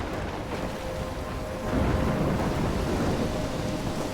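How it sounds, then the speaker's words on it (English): Thunderstorm in the video game Life is Strange, a steady hiss of heavy rain with a deep rolling thunder rumble swelling midway, loud and enveloping with no voices. "I'm trapped in a storm."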